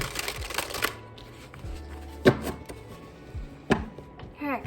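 A deck of tarot cards is shuffled by hand in repeated bursts of riffling and sliding, with sharp slaps as the cards are squared, close to the microphone.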